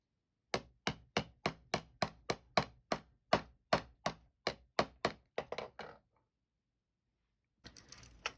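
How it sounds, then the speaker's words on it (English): Metal hammer flattening the end of sterling silver wire for jewelry ear wires, about twenty sharp, evenly spaced taps that quicken and soften toward the end, followed by a short rustle after a pause. "So both these I'm going to hammer out flat enough so that silver bead won't come off."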